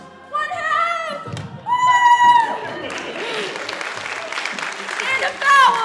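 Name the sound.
crowd cheering and applauding at basketball game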